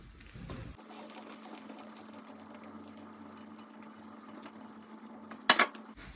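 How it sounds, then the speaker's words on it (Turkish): Cooked celery being poured carefully from a pot onto a plate in a home kitchen: soft scraping and sliding under a low hum, ending in a brief bright clatter of utensil against dish. "Şimdi kerevizi dikkatlice tabağa döküyoruz."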